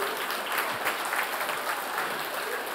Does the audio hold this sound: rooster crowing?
no